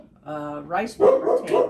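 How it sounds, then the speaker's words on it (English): A dog named Olivia barks and yips briefly, a few sharp close barks while greeting the postman, with a voice speaking over it. "and that is our dog"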